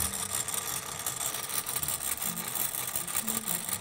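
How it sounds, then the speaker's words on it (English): A homemade machine pulls 3D printer filament, running with a steady, dense mechanical whir and buzz, close and continuous for a few seconds with no talk. "And there's the beautiful sound of my pulling machine."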